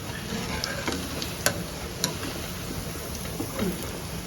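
Mutton keema balls frying in a pan give a steady, close sizzle with dense crackle, broken by a few sharp pops and spatters.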